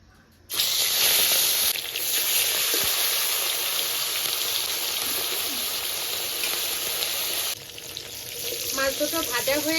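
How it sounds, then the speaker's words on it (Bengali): Turmeric- and salt-rubbed lata fish frying in hot oil, a loud sizzle that starts abruptly as the fish goes in and hisses steadily, dipping briefly, with a faint voice near the end. "আর মাছগুলো ভেজে নেব।"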